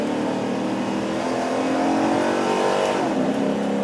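A modified Chevy Caprice police car accelerates hard, its engine roaring loud and steady from inside the cabin, pitch climbing then dropping briefly near the end as it shifts.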